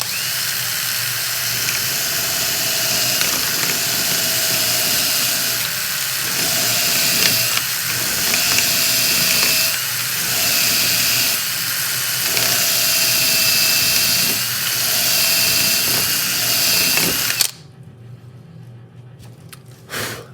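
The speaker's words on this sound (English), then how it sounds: "I'm actually going to just very crudely drill a bit of a trench for it almost." A power drill cuts a rough trench into a TT120 model railway layout, whining steadily and close for about seventeen seconds with a few brief dips in pitch before stopping abruptly.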